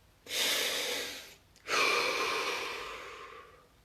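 Two deep breaths during a guided muscle-relaxation session: a long, airy inhale followed by a brief pause and a longer, slowly fading exhale, close and clear, with no talking.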